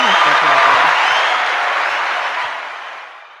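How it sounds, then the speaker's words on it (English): Steady applause from a crowd. Many hands clap at once in a dense wash that starts loud and fades away gradually, with a brief voice at the very beginning. "Yes, I have to applaud that one."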